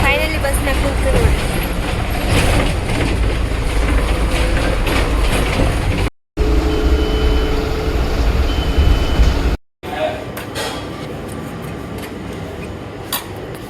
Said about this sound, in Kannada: ಫೈನಲಿ ಬಸ್ನಾಗ ಕುಂತು ನೋಡಿ